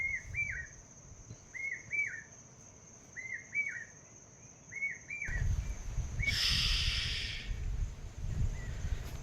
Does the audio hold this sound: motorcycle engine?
no